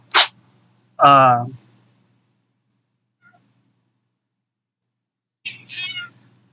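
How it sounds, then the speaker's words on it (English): A cat meows several times nearby. There are short high chirps, one longer meow, and a final pair of meows, separated by long silent pauses. "That's the little meowing you were hearing."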